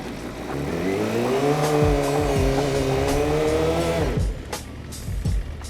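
A motorcycle doing a rolling burnout, its engine revving hard under a sustained tire squeal that climbs and holds for a few seconds, then cuts off into lower engine rumble, fairly close.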